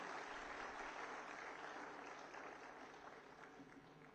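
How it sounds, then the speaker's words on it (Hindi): Steady applause from an audience in the Haryana state assembly hall, a dense even clatter of many hands lasting throughout and slowly easing toward the end, moderately distant and fairly quiet. "तालियां जरा जोरदार हो जाएं"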